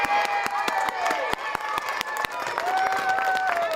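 Schoolchildren outside a school clap and cheer for an arriving visitor, a brisk patter of applause with voices mixed in, moderately close.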